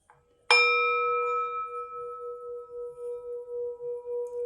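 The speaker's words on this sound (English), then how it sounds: "I'm going to go ahead and ring this bell" A single bell is struck once, ringing out clearly and close, its pure tone lingering and slowly fading with a gentle pulsing shimmer.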